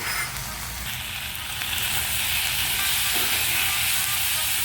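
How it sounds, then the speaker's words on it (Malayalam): Chilli fish sauce sizzles loudly as it is stirred in a pan over a high flame, a steady close hiss of frying with faint scraping, no voices. "അതുകൂടി ഒഴിച്ച് കൊടുത്ത് നന്നായിട്ട് ഹൈ ഫ്ലെയിമിലിട്ട് തന്നെ മിക്സ് ചെയ്യണം."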